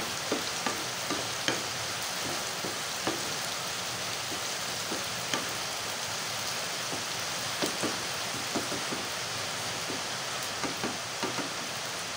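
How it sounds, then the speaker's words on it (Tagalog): Garlic sautés in a pan for an aubergine adobo, a soft continuous sizzle broken by regular light scrapes and clicks of stirring, fairly quiet and close, with no talk. "ito naman po ngayon ang garlic ang isusunod. Halo-haloin po natin yan."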